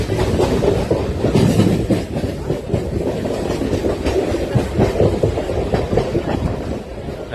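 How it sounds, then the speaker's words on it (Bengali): A train entering Santragachi station, heard from inside near the door: a continuous loud rumble with rhythmic wheel clatter on the rails, steady throughout, no talking. "গাইস সাঁতরাগাছি ঢুকছে আমাদের ট্রেন এখন।"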